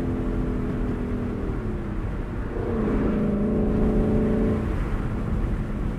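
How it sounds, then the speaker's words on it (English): Lexus LC 500 convertible's naturally aspirated V8 revving, a steady engine drone with rising and falling tonal pitch sweeps, moderately loud and without talk. "A wonderful sounding V8. One of the last naturally aspirated V8s on the market."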